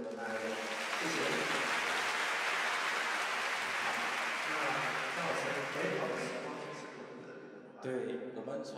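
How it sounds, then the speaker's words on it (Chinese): An audience applauds the Longtan community philharmonic orchestra at a live concert, a steady, dense wash of clapping that holds for several seconds before thinning out, with a voice coming in near the end. "再次掌声给我们的爱乐"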